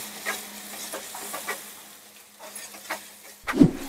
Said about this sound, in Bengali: পোস্ত বাটা দিয়ে সামান্য জল দিয়েছি, দিয়ে খুব ভালো করে নেড়ে ছেড়ে নেব